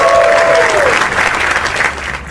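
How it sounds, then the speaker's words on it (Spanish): Applause from a live audience on a Christian podcast, a steady wash of clapping that stays loud across the whole stretch with a brief tone sliding down near the start. "un aplauso, por favor"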